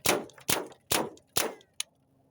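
Hatsan Invader .25 air rifle shots with Grizzly pellets strike a refrigerator door: four loud, sharp metallic clangs about half a second apart, each ringing briefly, then a smaller quick tick.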